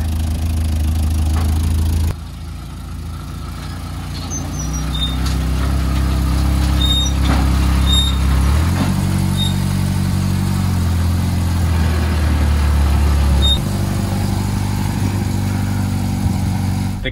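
A Mercedes 190E sits idling unusually high, its engine holding a loud, steady mid-pitched drone with a few small shifts in speed and faint bird chirps in the background.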